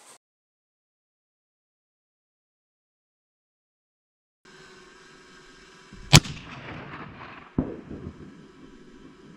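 A 7mm PRC rifle loaded with Federal ELD-X ammunition fires one sharp, loud shot outdoors over a steady background hum, followed by a rolling echo and a second distant crack about a second later.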